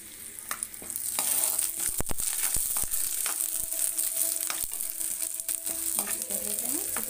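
Chana dal and urad dal fry in oil in a pan, crackling with a bright, steady hiss. Sharp pops and clicks break through, with light stirring scrapes.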